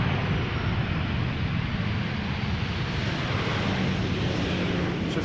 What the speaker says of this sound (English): This was KLM flight 1724 returning from Brussels.